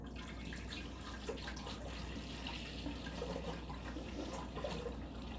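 Homemade wine juice pours into an Instant Pot, a steady continuous splashing and trickling of liquid that runs the whole time, fairly faint and close, with no talking.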